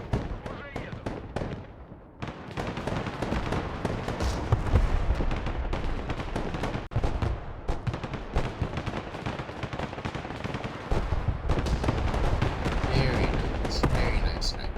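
Samats 2 units engage a hostile tank in the Broken Arrow strategy game, a dense, continuous barrage of gunfire and heavy artillery-like blasts, rumbling and crackling loudly for the whole stretch with brief lulls.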